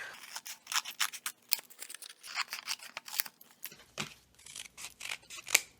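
Scissors cutting through a sheet of printer paper folded several times, with a quick series of close, crisp snips and paper rustles in an uneven rhythm and no talking.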